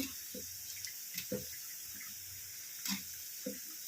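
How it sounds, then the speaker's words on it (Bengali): Boiled taro being drained of water, with a ladle pressing it down: faint splashes and drips come at intervals over a steady low background hiss, and nobody speaks. "কচুটাকে জল ঝরিয়ে নিচ্ছি, হাতা দিয়ে চেপে চেপে, খুন্তি দিয়ে চেপে চেপে।"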